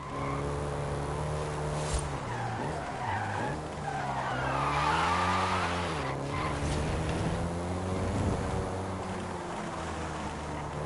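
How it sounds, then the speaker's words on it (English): A Volkswagen Golf GTI driven in the Forza racing game, its engine droning steadily while the pitch rises and falls, with tire squeal and skidding layered over it for the whole stretch. "including the Golf GTI you're driving right now"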